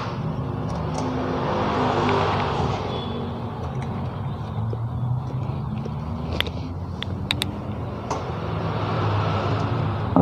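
An engine is revved in a workshop after solenoid sensors are fitted, a continuous rumbling idle swelling into throttle blips, with sharp clicks and metallic taps scattered on top.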